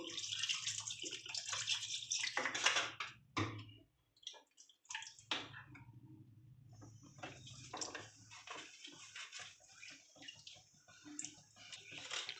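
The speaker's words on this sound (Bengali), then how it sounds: "এবার আমি একটু জল দিয়ে দেবো" Water poured into a cooking pot of turmeric-seasoned curry for a Kashmiri-style rasgulla dum gives a steady, close splashing rush that breaks off briefly midway, then resumes with lighter trickling and clinks.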